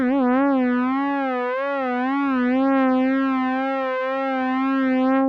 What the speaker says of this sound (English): So we can get a little bit of a vibrato sound out of it.